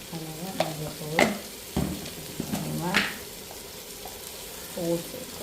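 Ginger garlic paste and turmeric sautéing in a pan, a low sizzle under a speaking voice, with a few sharp scraping strokes of a stirring utensil.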